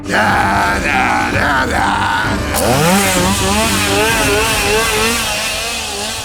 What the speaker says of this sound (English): now we have a clown with a chainsaw